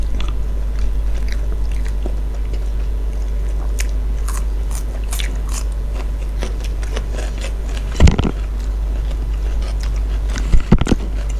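Crunchy skin of Thai lok ching skewers being bitten and chewed close up, with scattered crisp crackles through a steady low hum and two sharper crunches near the end.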